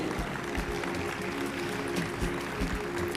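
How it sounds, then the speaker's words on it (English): An audience at a youth awards ceremony in Tobago keeps up a round of applause for student honorees, steady clapping in a large room over a low hum and some background noise. "Let's keep the round of applause going, ladies and gentlemen."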